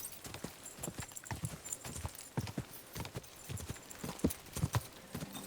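A horse gallops in the video game Kingdom Come: Deliverance 2, with a steady run of loud, close hoofbeats over a busy background, and one brief snort or whinny near the end.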